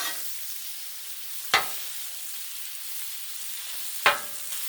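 Sausage sears on a Blackstone flat-top griddle with a steady, soft frying hiss. Two sharp scrape-like clicks from a spatula stand out, and no one speaks.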